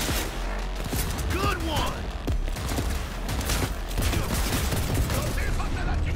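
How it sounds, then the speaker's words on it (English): Rapid gunfire bursts from a firefight in a plaza in the video game Cyberpunk 2077, loud and continuous across the clip, with a voice talking over the shots. "It's time to shoot our way through. Couple headshots."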